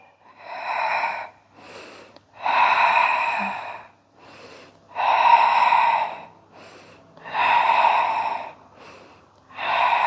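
Slow, deep breathing during a floor exercise in a full-body workout routine: long, airy inhales and exhales alternate in a steady rhythm, close and clear, with no talking over them.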